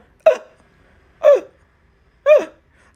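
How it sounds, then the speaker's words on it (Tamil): Three sharp hiccups, evenly spaced about a second apart, each a short voiced gasp-like burst, close and clear with near silence between. "விக்கல் சத்த ஊரையே கூட்டிடும் போல் இருக்கு"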